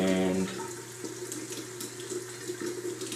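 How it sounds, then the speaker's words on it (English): Running tap water splashes steadily over a safety razor held under the faucet and rinsed clean of hair, a close, continuous wash of water with slight shifts in flow and no talking. "I'll give it a good rinse, make sure the hair's out"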